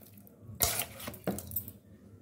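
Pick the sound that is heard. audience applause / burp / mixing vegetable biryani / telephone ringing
mixing vegetable biryani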